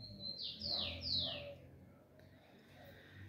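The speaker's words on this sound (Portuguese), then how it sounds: "esse passarinho, família, tá cantando muito assim" A rufous-collared sparrow (tico-tico) in a cage sings a few short, bright descending whistled notes up close, followed by quieter faint chirps over a low background hum.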